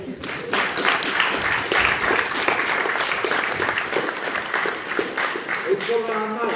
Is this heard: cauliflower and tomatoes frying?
no